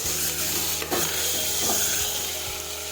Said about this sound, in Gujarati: આ રીતે આપણે સાતળી દઈશું